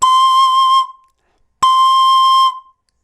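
Pan flute blown with a bright, edgy overblown tone, two sustained breathy notes of under a second each separated by a short silence, loud and close.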